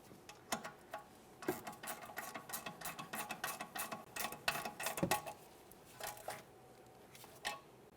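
Ratchet snugging the rear sway bar link bolts on a GMC Acadia, a quiet run of rapid clicking strokes in uneven bursts, close up with no talk.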